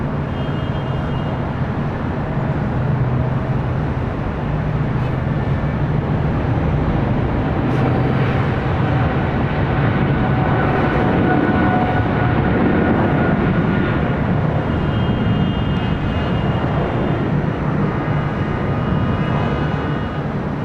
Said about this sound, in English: Next takeoff happening now on 25 right on the south side.